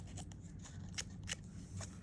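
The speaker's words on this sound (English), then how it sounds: "But you can just take your scissors." Scissors snip through paper in a handful of quick, faint, separate cuts set against a quiet background.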